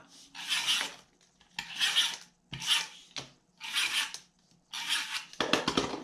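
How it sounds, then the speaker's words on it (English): A tape runner dispenses adhesive tape onto craft paper in six quick raspy, rubbing strokes, each a short close burst with brief pauses between, with no talking. "Then I'll take my tape runner, and I'm going to add some tape."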